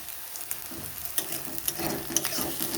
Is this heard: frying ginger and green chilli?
yes